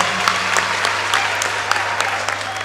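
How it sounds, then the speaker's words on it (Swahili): An audience at a student bursary cheque handout applauds in a dense burst of clapping, loud and close, sustained for a few seconds with a steady hum beneath. "kila mmoja mpigie makofi"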